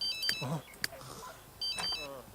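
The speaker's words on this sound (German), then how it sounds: "Da hat der Telefon." A telephone rings in The Sims 3, with a few short, bright electronic trills, one early and another near the end, over a man's speech and quiet game sounds.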